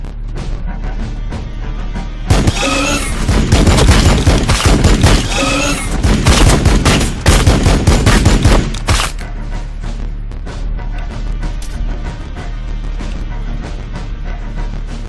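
Sustained gunfire in Warhammer 40,000: Battlesector, a loud, dense burst of rapid shots and booms lasting several seconds before cutting off abruptly, leaving a quieter battlefield rumble.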